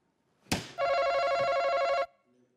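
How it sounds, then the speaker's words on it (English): A telephone bell rings once in a single sustained burst of about a second and a half, loud and close, after a brief knock, on a game show set. "The phone rings."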